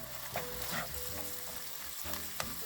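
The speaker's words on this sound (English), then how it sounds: "are just going to continue to let this brown." Ground meat browning in a pan for low-carb keto nachos, giving a steady close sizzle with occasional scrapes and stirs of a utensil, with no talk.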